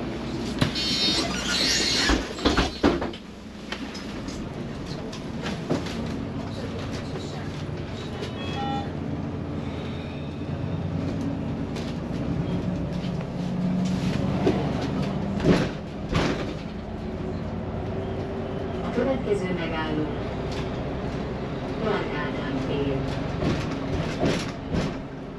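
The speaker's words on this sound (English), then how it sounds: "a wee free bus journey across the river" A free city bus crossing the river bridge in Budapest, its interior filled with a steady engine and road rumble, a sliding door thudding shut near the start, and scattered rattles and knocks throughout with no clear talk.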